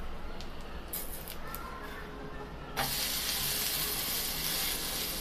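Nachni (finger millet) uttappa cooking in a pan after being flipped, a quiet background hiss that jumps into a louder, steady, broadband sizzle partway through, close and without speech.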